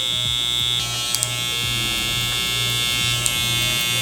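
A close electric hair clipper with its lever open buzzes steadily and loudly with a high whine during a low taper haircut, running without pause and with small ticks of contact along the way.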